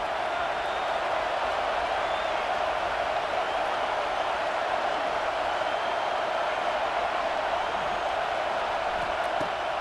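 Steady roar of a football stadium crowd at a Clemson versus Michigan game, a dense continuous wash of voices holding at an even level for the whole stretch with no clear individual shouts.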